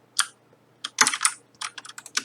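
Keys and mouse buttons click in quick separate bursts at a computer during Minecraft play. The sharp clicks come close and loud with short gaps between them.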